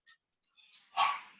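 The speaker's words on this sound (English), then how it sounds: "sorry about that, that's my dog." A dog barks in a home during a community meeting, giving a faint yip, a short pause, then one sharper, louder bark close by.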